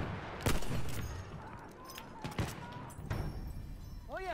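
Scattered enemy gunshots in Battlefield 1, a few sharp cracks spaced apart over a rumbling battlefield background, moderately distant.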